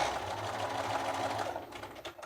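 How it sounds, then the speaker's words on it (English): A sewing machine top-stitching across a fabric seam allowance, a fast, steady whirring run of stitches up close that slows and stops near the end. "I'm just going to put a quick little stitch right at the top of this seam allowance"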